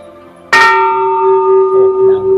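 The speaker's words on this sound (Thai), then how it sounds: "ตรงนี้ก็มีระฆังนะครับ" A single loud strike of the temple bell at Wat Phra That Hariphunchai in Lamphun, Thailand, rings out and hums on with a long, steady resonant tone, with faint voices murmuring underneath as it fades.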